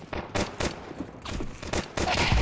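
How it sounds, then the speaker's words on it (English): Rapid bursts of gunfire in a tactical shooter game, several sharp volleys loud and close with brief gaps between, alone without talk. "Where the fuck did I get shot from?"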